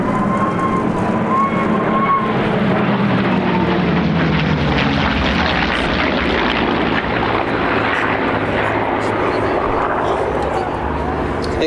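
A P-51 Mustang performs a display routine at Sywell Airshow, its engine drone steady and loud throughout, swelling and shifting in pitch as the warbird passes, with faint speech mixed in.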